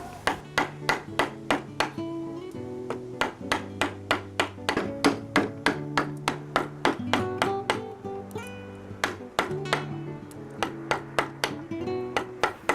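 A mallet drives gouges through wood during carving, with sharp, evenly spaced strikes in a steady rhythm, each hit ringing briefly, close and clear with no talking.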